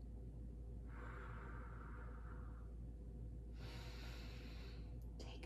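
A long, steady breath released through the nose after a breath hold, followed by a second rushing exhale, close and quiet against a low hum.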